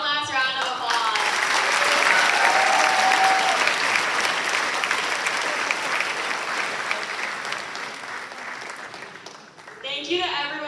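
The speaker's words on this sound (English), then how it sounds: "Let's give one last round of applause." An audience at an evening event for the CCA Unite 2025 storytelling program bursts into a final round of applause, loud, full and sustained for about ten seconds, thinning toward the end as a voice returns.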